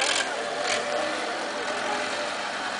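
A tractor engine idles steadily at a 2015 farm competition, a continuous mid-range rumble at moderate volume with faint voices in the background.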